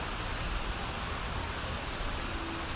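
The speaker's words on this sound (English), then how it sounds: "I love the waterfall here." Steady broadband rush of water from the waterfall beside the resort pool at Disney's Wilderness Lodge, a continuous even roar heard close by with no breaks and nothing else standing out.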